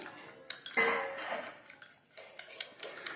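Spoon scraping and clinking in a bowl while two ingredients are mixed together, with a burst of clatter near the start followed by lighter, irregular taps and scrapes, moderately close.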